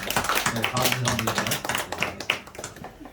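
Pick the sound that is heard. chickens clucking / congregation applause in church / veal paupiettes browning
congregation applause in church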